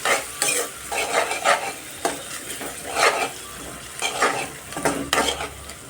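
Tomato pieces frying in oil for a cucumber curry, a steady sizzle broken by repeated stirring scrapes of a utensil against the pan at a regular rhythm, close and fairly loud.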